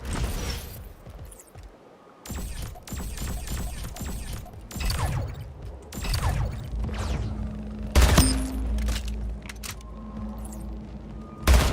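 Rapid gunfire in the arena shooter Splitgate, loud bursts of shots coming close together with thuds and mechanical clatter between them, and a heavier boom near the end.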